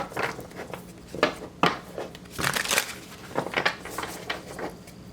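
Tarot cards being shuffled, a continuous close riffling and slapping of card stock with sharp bursts, alone without talk.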